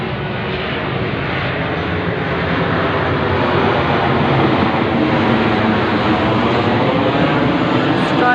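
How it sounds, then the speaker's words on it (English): A fixed-wing airplane passes overhead late at night, a steady broad engine roar that stays loud and constant throughout with no talking. "Plane"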